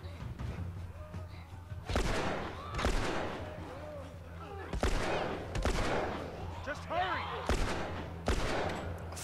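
Gunshots in the video game The Last of Us ring out in several loud bursts spread across the scene, mixed with game sounds and a player talking over them.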